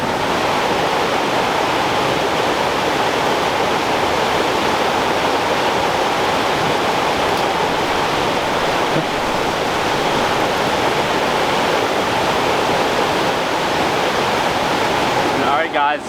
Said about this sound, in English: And the main Kern River is just roaring.